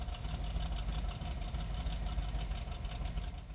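A classic Mopar muscle car with a mild cam idles close by, its low, steady rumble carrying a gentle uneven lope, with no talking.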